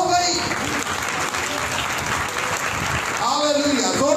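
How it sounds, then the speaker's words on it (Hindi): Loud congregation clapping at a live church prayer service, a dense sustained wash of applause filling the whole stretch, with voices mixed in and swelling again toward the end. "हालेलुया, जोरदार तालियां बजाएं अगर बजाने हो तो"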